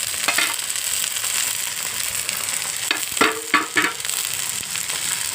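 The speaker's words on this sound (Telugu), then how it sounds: "ఇప్పుడు బెండకాయ ముక్కలు వేస్తున్నాం చూడండి." Okra pieces tossed into a pan of fried onions for okra curry, a loud continuous sizzle with a few short bursts as the pieces are moved, no voices.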